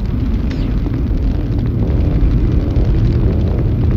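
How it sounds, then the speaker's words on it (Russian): Planted explosives detonating in the video game C-12 Final Resistance, a loud sustained booming blast with deep rumbling low end that rolls on continuously, close and heavy, with no voices over it. "Райли, наши сенсоры уловили мощный выброс энергии. Похоже, это связано со взрывом"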